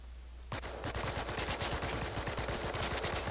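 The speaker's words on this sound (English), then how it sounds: "Some guy's shooting at me." Gunfire in the video game Last Man Standing erupts after a brief quiet moment, with a loud, rapid automatic burst of shots. It continues steadily and close-up with no pause.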